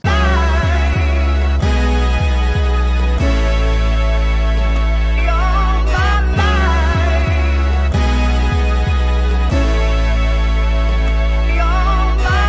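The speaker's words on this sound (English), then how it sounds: "So I add an 808, a brass, a Juno synth, and another Juno synth." Beat instrumentation with no drums: deep 808 bass hits sliding in a rhythmic pattern under brass and two layered Juno synth parts, loud and dense throughout with no voices.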